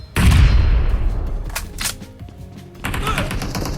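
M16 rifle gunfire in a PUBG Mobile team deathmatch: loud, close automatic bursts that fade into a lull, then a fresh burst of shots near the end.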